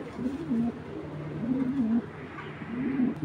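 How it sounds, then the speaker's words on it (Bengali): A pair of black checker racing pigeons, an older male and a young female, coo up close in three soft, throaty, rolling phrases separated by brief pauses, with no talk. "কবুতর দুইটা একটু দেখায় আপনাদের।"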